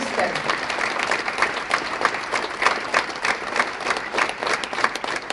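Steady applause from an awards gala audience, many hands clapping at once with a few sharper individual claps standing out, continuing throughout.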